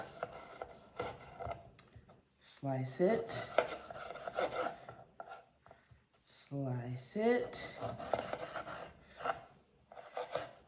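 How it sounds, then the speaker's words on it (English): A knife slicing a lime on a cutting board, with soft rasping, rubbing cuts in bursts, fairly quiet and close, while a person talks over it. "take a knife, take your chopping board or cutting board, and slice it"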